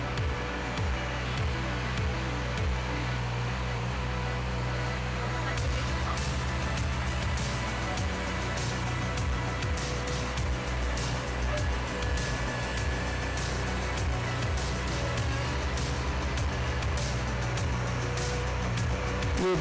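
A TaskMaster mini skid steer loader, a Dingo-style machine, runs steadily through the whole stretch with a loud, constant engine drone and mechanical rattle, used for general yard cleanup of cut branches.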